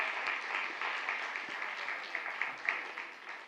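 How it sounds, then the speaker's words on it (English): Sustained audience applause at a health equity policy summit honoring the day's speakers, a dense steady clatter of many hands filling the whole stretch without break. "Please join me in giving just one more round of applause to all of the speakers that we've had today."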